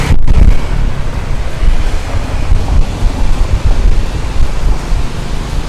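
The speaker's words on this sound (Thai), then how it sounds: "วันนี้ลมก็ค่อนข้างที่จะแรงนะคะเสียงก็อาจจะมีลม ซัดเข้ามาอยู่นิดนึงนะคะ" Strong wind buffets a handheld microphone on a street in the Soi Welcome area of Pattaya, a loud, steady rumbling roar that fills the whole clip with no talk over it.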